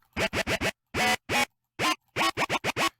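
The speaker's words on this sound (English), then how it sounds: "This is a sound that I call the FM Chop Shop Wub" An FM Chop Shop Wub synth patch built in the Caustic 3 modular, sounding as a series of short, loud, choppy bursts with downward-swept tones, clustered in quick groups separated by brief gaps, with no other sound.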